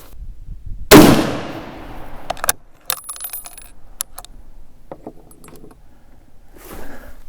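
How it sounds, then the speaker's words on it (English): A single loud, sharp crack from an 1896 Krag Jorgensen rifle firing handloaded rounds at an outdoor range, followed by softer clicks and clatter of the bolt being worked and a faint later rustle. "So I'm just gonna shoot the next 3 and see where they end up."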